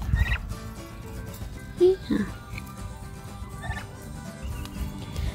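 Turkeys gobble and chatter in a garden pen, short warbling calls heard close by amid a person talking softly to them.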